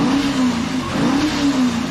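A Holden HQ GTS Monaro muscle car engine revs loudly and close up, its pitch rising and falling in repeated throttle blips with a rough, steady exhaust rumble throughout.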